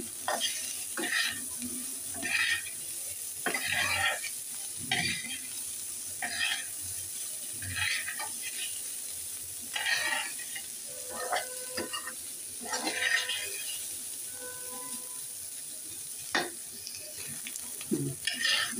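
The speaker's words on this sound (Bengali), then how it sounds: "আমি ফুলকপিটাকে হালকা ব্রাউন করে ভেজে নিচ্ছি।" Cauliflower pieces fry in oil in a pan with a soft, continuous sizzle, broken by repeated scraping stirs of a spatula at an uneven rhythm, close and fairly quiet.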